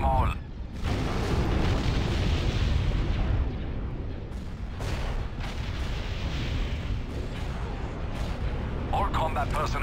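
A video game destroyer firing on a target, a heavy continuous rumbling barrage of deep booms and blasts that stays loud across the whole stretch.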